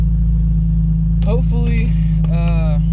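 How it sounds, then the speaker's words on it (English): A car engine idles while warming up, giving a constant loud low drone with a regular throb. Brief voices speak over it partway through. "All right, so the car's warming up right now."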